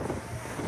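Cold wind buffets a boat speeding across the Aegean Sea, a loud, close, steady rushing roar mixed with wave and engine rumble and no voices.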